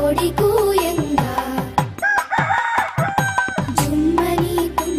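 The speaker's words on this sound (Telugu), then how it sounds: "కొక్కొరో కోయని కోడి కూయంగా" A cartoon rooster crows a long cock-a-doodle-doo in a Telugu animated nursery rhyme, with one rising-and-falling call in the middle over lively, loud backing music.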